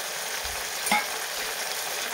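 Steady sizzling of masala and turmeric frying in hot oil for a soybean curry, a continuous crackling hiss with one brief louder pop midway, no talking.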